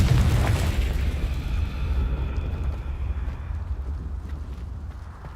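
A Confringo blasting spell goes off in Hogwarts Legacy inside a tomb, a loud, close boom with a heavy low rumble that fades slowly over several seconds, with some faint debris and creaks.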